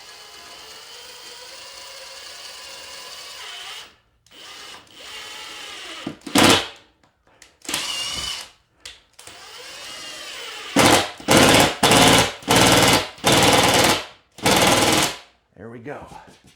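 A power drill drives screws into a wall without pre-drilling while mounting an inverter, in repeated short bursts, whining loudly then stopping, with pauses and a voice talking between runs.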